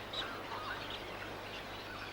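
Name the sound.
many birds calling in the trees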